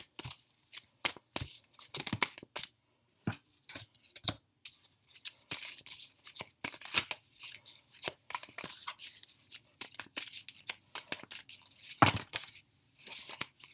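Oracle cards are shuffled and pulled by hand, giving close, rapid papery riffles and flicks in irregular bursts with short pauses, and no talking.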